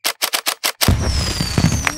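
Cartoon fireworks display: a rapid run of six sharp crackling bursts, then a louder pop followed by sizzling, whistling and scattered crackles, close and bright, no voices.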